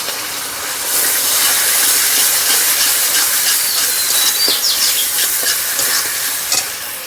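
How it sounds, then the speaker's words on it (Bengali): Spice paste with melon seeds, cashew and poppy seed paste frying in oil for a Bengali fish rezala, giving a loud steady sizzle and hiss with scraping stirs throughout. "মশলা থেকে তেল ছেড়ে গেছে, এবার দিয়ে দেবো চারমগজ,"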